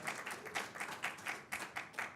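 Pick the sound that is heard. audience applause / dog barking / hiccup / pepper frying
audience applause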